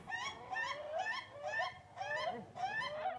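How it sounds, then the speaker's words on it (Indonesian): Ayam ketawa (laughing chickens) at a crowing contest in Sidrap, calling in a run of five loud, rhythmic, cackling bursts that rise and fall, close and clear with no talk. "ayam ketawa atau ayam gagah berlomba memperdengarkan suara indahnya"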